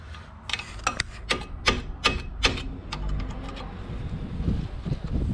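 Cutting a small notch with hand tools on a Renault Kangoo 1.5 dCi brake caliper to get a screwdriver behind badly seized pads: a burst of sharp metallic clicks and taps at first, then quieter scraping and rubbing.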